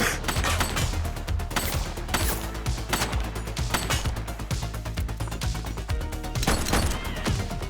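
Rapid gunfire in a police action video game, dense bursts of shots with crashes running loud and continuous throughout.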